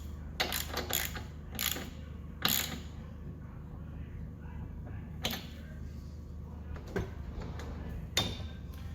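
A ratchet wrench with a 13/16 socket working on the spark plug of a Craftsman lawn mower with a Tecumseh engine, giving several separate bursts of clicking and metallic turning spread across a quiet background.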